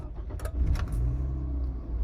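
The engine of a 2008 Toyota RAV4 cranks briefly and catches, settling into a steady, close idle.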